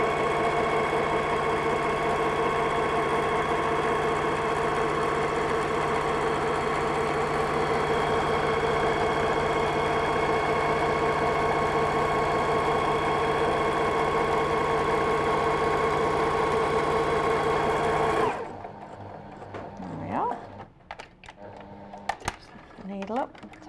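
A sewing machine runs steadily for about eighteen seconds, a dense whirring drone while stitching the side seams of a dress, then stops, leaving quiet handling noises and brief voices.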